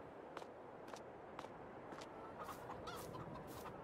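Chickens in the Farming Simulator video game cluck softly in a farmyard, short repeated clucks spaced about half a second apart over a faint, steady background.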